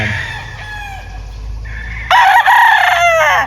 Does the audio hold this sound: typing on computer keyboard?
no